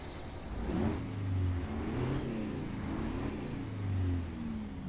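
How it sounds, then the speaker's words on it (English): Truck engine in the TruckersMP trucking simulator, a deep Peterbilt engine sound layered over a Kriechbaum 8V92 Detroit diesel, droning steadily with low rumbling surges as it revs, alone without talk. "You hear the bass Peterbilt sound on top of the Kriechbaum's 8V92 Detroit diesel."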